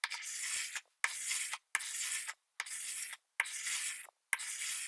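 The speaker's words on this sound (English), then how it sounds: "we need to remove all the excess from the joint here. And I'm just using the scraper for this." A hand scraper shaves dried glue from a glued-up wooden board joint, six evenly spaced dry rasping strokes close up, each followed by a brief silence.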